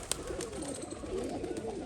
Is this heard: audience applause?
no